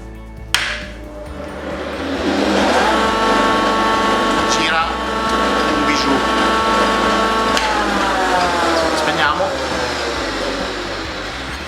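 A DeWalt DW125 radial arm saw motor starts up and runs with a steady, loud whine and humming overtones, holding an even pitch for the rest of the clip.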